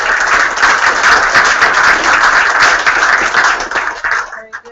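An audience applauds after a seminar panel on the Modern Peace Corps and agricultural development, a loud dense burst of clapping that holds steady and then tapers off quickly at the end.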